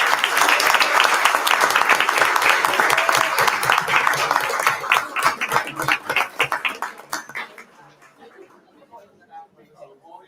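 Crowd applause at a regional school district board meeting honoring 25 years of service, loud dense clapping that thins out and fades to scattered claps and quiet room noise by the end.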